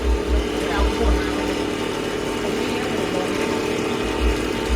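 An engine-powered grinding mill for rice husk, bran and corn runs in a shop. It gives a steady mechanical hum with low, throbbing pulses, and a voice can be heard over it.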